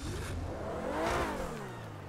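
A custom Vagner supercar in GTA 5, painted ultra blue with a large rear wing, revs its engine in a steady roaring drone that rises to a peak and eases back down, loud and close, with no talking.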